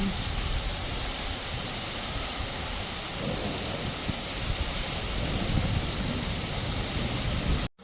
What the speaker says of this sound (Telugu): ½ an hour తర్వాత వర్షం ఇప్పుడు కొంచెం తగ్గింది